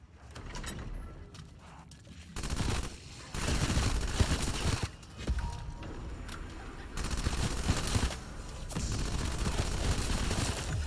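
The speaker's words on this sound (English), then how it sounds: "Rapid fire rockstar. Submachine gun" Rapid submachine gun fire in Call of Duty Cold War zombies, sustained bursts of loud mechanical rattling that start and stop several times, dense and close, with no speech.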